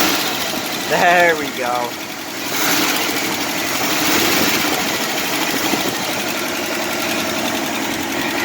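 A 1968 Jeep Wagoneer engine idles steadily and loudly up close after firing right up, a continuous rumble under a brief spoken remark.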